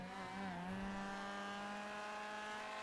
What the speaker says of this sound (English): I just love the way they sound. That's a rotor engine for you